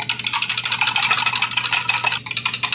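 A whisk beats ice cream base ingredients in a container in fast, steady, close strokes, producing a continuous scratchy rhythmic rattle with no voice over it.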